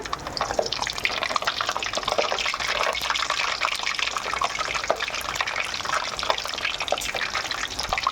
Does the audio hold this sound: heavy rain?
no